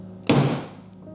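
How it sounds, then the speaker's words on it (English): A single firm thud lands sharply on the pegs of a massage chair being assembled, then decays quickly into quiet. "we're going to give a good thud right here to hit all 3 of them"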